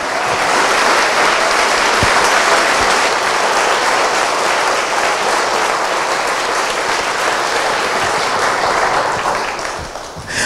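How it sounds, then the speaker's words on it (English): A town hall crowd in San Francisco breaks into loud, sustained applause, a thick roar of many hands clapping that carries on for about ten seconds before easing slightly at the end. "give like one initial burst of loving energy and round of applause for these people"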